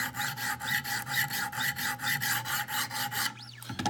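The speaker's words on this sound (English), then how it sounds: "Notice how I'm letting the stone follow the curve of the knife here" A Wicked Edge sharpening stone rasps in rhythmic strokes along the curved blade of a Hinderer knife, about a dozen close, even passes, closing with a brief metallic ring.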